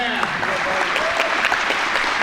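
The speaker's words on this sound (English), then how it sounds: "Let's give him a big hand." An audience at an archery tournament's youth male recurve finals claps steadily throughout, dense and close, with a few voices mixed into the applause.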